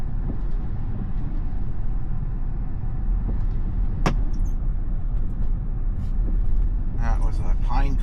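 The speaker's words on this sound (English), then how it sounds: "That was a pine cone or something that hit the glass." A sharp, single tick on the glass stands out against the steady road rumble and wind noise inside a Tesla driving on Full Self-Driving through a cyclone bomb wind storm, probably a pine cone striking the car's glass, while a person talks.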